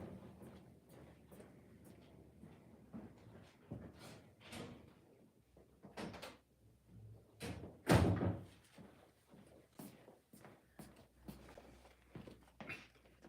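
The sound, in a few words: door being closed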